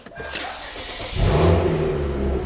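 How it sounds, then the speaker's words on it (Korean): A Hyundai Genesis Coupe 3.8 engine revs up, its exhaust rising to a deep, loud roar that holds steady and rumbles on close by. "이제 요 배기 소리, 문제의 배기 소리"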